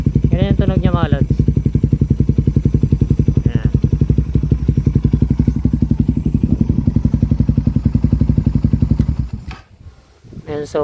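A scooter engine with an aftermarket replica pro pipe exhaust, bored to 51mm, idles close by in a rapid, steady putter, with a voice briefly speaking over it before the engine cuts off.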